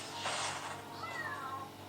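A single cat in the video game Dofus Touch lets out one short, rising-then-falling meow over a steady background hiss of game ambience.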